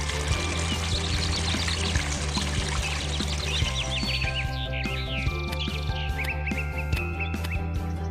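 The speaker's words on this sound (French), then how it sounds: "Loco, peux-tu aller me puiser de l'eau pour me laver, s'il te plaît?" Water is drawn and poured out for washing, a steady splashing pour running throughout with birds chirping and tweeting in the background; no one speaks.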